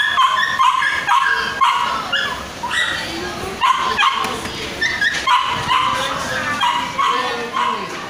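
Several dogs bark, yip and whimper close by in short excited bursts, with people talking over them.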